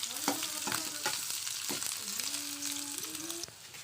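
Chopped onion fries in a kadai with mustard seeds and curry leaves, giving a close, steady sizzle. Several scraping stir strokes cut through, and a faint tonal hum rises in the middle.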